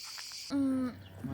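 A wasp buzzes briefly and close by outdoors while traveling in Montenegro, a single short, steady drone lasting under half a second amid quiet surroundings.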